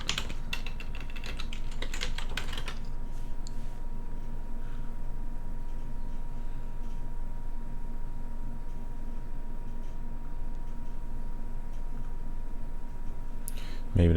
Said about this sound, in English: So I'm just typing in music.